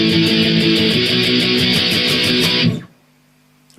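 A distorted electric guitar fill from a song, built on two power chords, rings out in a loud, driving strummed pattern for under three seconds before cutting off into near silence with a faint lingering hum.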